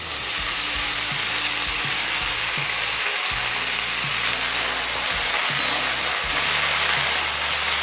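Radish greens frying in a pan produce a continuous sizzle with stirring, accompanied by a low, steady mechanical hum underneath, and no one speaks.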